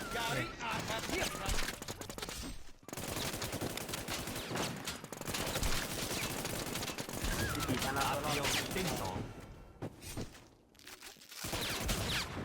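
Rapid bursts of gunfire in a shooting video game, dense and loud automatic fire filling the scene with brief gaps between volleys, while a player talks excitedly over the action.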